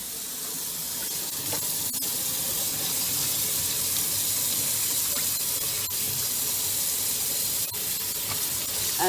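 Steady running water splashing into a kitchen sink, rinsing off Jif cleaner, continuous and fairly loud, with occasional faint clatters and no talking.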